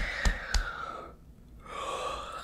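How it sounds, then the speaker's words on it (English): Someone yawns close to the microphone in a quiet room, a drawn-out breathy exhale that tapers off, briefly falls silent, then trails into a soft second breath. "Forgive me for yawning."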